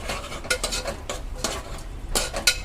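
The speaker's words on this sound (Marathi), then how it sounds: "डाळ चांगली परतून घेऊ" Dal being sautéed with a tempering of spices inside a pressure cooker, a spoon scraping the pot in quick repeated strokes over a faint, steady sizzle.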